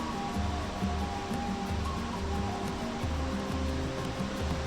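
Kaveri river water pours over the rocks at Shivanasamudra Falls, a continuous broad rushing roar heard from a distance with a faint steady hum beneath it and no voices.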